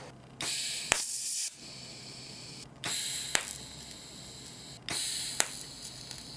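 Welding on the Marble Machine X build, three separate bursts of loud crackling hiss, each a second or two long with a sharp snap near the start, separated by short quiet pauses.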